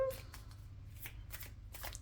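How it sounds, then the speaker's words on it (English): Mini tarot deck being shuffled by hand, a run of soft papery riffles and slaps in irregular bursts, close and fairly quiet over a low steady hum. "Okay, and I'm just going to shuffle. I'm using this little mini deck here."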